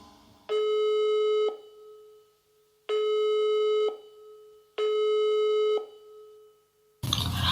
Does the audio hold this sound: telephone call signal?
yes